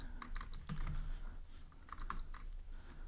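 Quiet, close typing on a computer keyboard while writing Android SQLite code, with a quick irregular run of key clicks over a low background hum.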